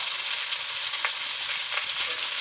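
Spiced live koi fish stirred and mixed in a hot pan with salt, ground spices and chilli powder, a steady close sizzle with a few soft scrapes of the spoon, no voices.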